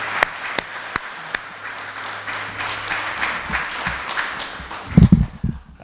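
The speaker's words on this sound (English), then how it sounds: "I just want to give her another round of applause" Guests at an awards dinner applaud steadily, with a few sharp louder claps standing out near the start and a brief louder burst of handling noise near the end.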